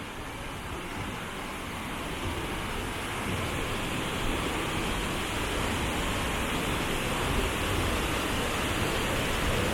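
Waterfall in Cebu, Philippines, pouring in a steady, dense broadband rush that holds even throughout, moderately loud and unbroken by voices.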